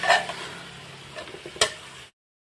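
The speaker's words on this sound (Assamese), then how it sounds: "ধুনীয়াকৈ মছলাৰ লগত এইখিনি মাংসৰ লগত ভালদৰে অলপ ভাজি ল'ম" Bottle gourd and tomato frying with spiced meat for a khichdi, giving a steady close sizzle with a few spoon stirs and scrapes in the pan before it cuts off.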